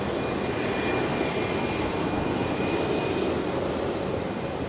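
A Boeing 717 airliner, the last one built, landing at Brisbane Airport on its final flight, gives a steady, loud jet roar that holds evenly throughout with no voices over it.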